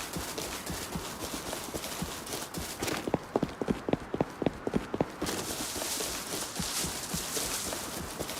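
Horse hooves clip-clop in a steady run of about ten sharp, evenly spaced strikes in the video game Rust, rising close over a constant windy ambient bed before fading back into it.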